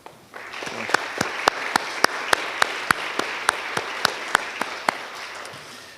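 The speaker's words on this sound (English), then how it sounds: "perhaps we can give them a round of applause too" Family and friends are applauded at an Elmhurst University nursing convocation. Distinct, separate hand claps ring out at a quick, fairly regular pace over a soft crowd bed, with no speech.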